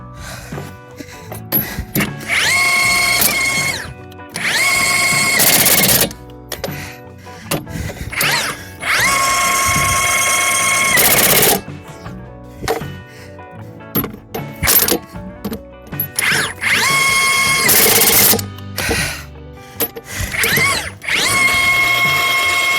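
Impact wrench tightening lug nuts on a semi truck, ratcheting in repeated loud bursts of a few seconds each, with brief pauses between nuts and a sharp stop as each reaches torque.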